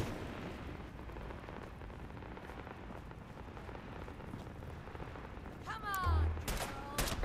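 Gunfire in Fallout 4, a dense rattling crackle of shots layered under continuous noise, with a louder cluster of bursts and a brief voice-like sweep near the end.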